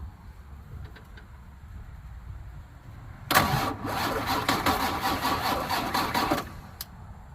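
A Ford rollback tow truck engine cranks and fires up loudly after a quiet stretch, running roughly for about three seconds before cutting off, with faint clicks beforehand.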